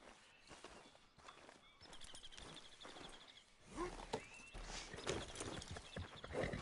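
Horse hooves clip-clopping at a walk, with a whinny partway through, from the Red Dead Redemption 2 game; faint, irregular steps set against background ambience.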